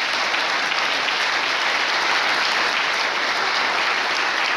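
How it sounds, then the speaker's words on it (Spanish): Church congregation applauding together during a Sunday school service, steady dense clapping that fills the whole stretch at an even loudness with no talk over it. "Denle un fuerte aplauso al Señor, amado hermano"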